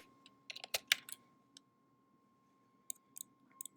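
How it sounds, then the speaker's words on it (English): Someone presses keys on a computer keyboard while modeling kitchen cabinets in SketchUp: a quick burst of clicks, a pause, then a few more scattered taps, faint and close. "If you hit K on the keyboard"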